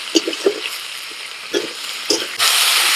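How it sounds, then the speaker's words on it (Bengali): Radish frying with mustard paste in a pan, with a few close scraping stirs and short taps before a loud, steady sizzle swells up and holds to the end. "সরষে বাটা দিয়ে 30 সেকেন্ড মতো ভেজে নেব"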